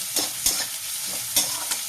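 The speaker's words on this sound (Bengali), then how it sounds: "এখানে পেঁয়াজটা পুরো ভাজা হবে না, জাস্ট একটু ফ্রাই হবে।" Sliced onions fry lightly in oil in a pan, a soft sizzle broken by several quick scraping stirs of a spatula, close and clear with no voices.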